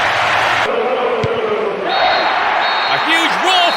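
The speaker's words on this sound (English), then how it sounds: "A huge roar from the crowd as the referee blows the final whistle." Stadium crowd roaring in the football video game PES 6 at a World Cup match, a loud continuous wash of cheering with a short whistle-like blip and synthetic tones toward the end.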